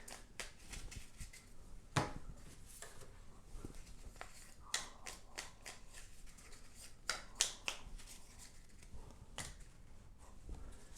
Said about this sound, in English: Then take the remaining cave tiles, shuffling them up, and making a stack.